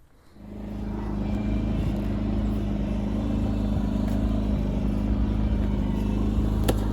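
A car engine running after makeshift exhaust work, still running rough. It settles into a steady, loud idle that drones continuously for several seconds, with no talking.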